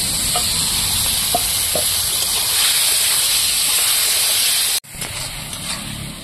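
Prawns sizzle in a frying pan with a loud, steady hiss that runs continuously, breaks off sharply near the end, then resumes more quietly.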